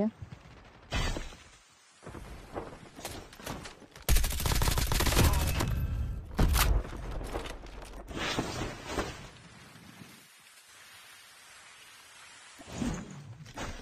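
Gunfire in the mobile game Call of Duty Mobile, a loud burst of rapid automatic shots mid-clip with scattered single shots and footsteps around it, while players talk over the game.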